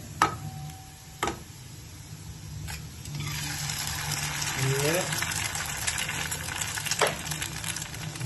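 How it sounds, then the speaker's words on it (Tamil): Two eggs cracked into a pan of frying potatoes, with a steady sizzle that swells and spreads after a few seconds, broken by occasional sharp knocks and clicks nearby. "இப்போ அதில் நம்ம 2 முட்டையை உடைச்சு ஊற்றிக்கலாம்"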